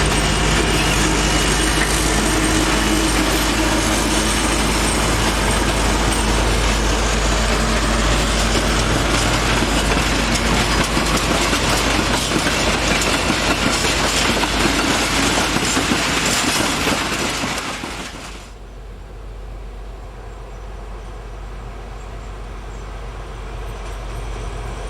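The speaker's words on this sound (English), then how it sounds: "Here we see ST44 1099, a locomotive specially painted in the attractive blue livery to signify its dedicated use on oil trains" A PKP ST44 diesel locomotive in blue livery hauls an oil train bound for Gdynia, with a loud, continuous engine drone and wagon rumble that drops abruptly to a quieter, distant roar after about seventeen seconds.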